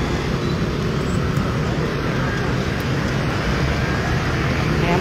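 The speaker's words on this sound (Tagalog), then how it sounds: "Ayan po, mga motor." Dense street traffic with many motorcycles streaming past a pedestrian crossing near a 7-Eleven, a steady loud broadband roar of engines and tires close by with no gaps.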